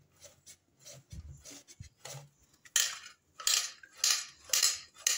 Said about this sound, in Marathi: अशा प्रकारे आपला सगळ्या बटाट्यांचा किस तयार करून घेऊ.